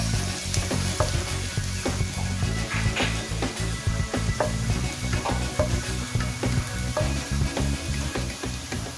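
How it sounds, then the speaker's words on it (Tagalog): Garlic sautéing in a hot pan for a fish steak dish, with a dense, continuous sizzle and repeated light clinks of stirring close by, loud and steady with no voices. "Tapos tayo dito, isa muna tayo ng bawang."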